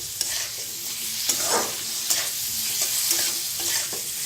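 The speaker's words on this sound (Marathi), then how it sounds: "फुलगोबी भाजायचं छान असं तेलात" Cauliflower frying in oil in a pan: a steady close sizzle with bursts of stirring and scraping, loud and alone without talk.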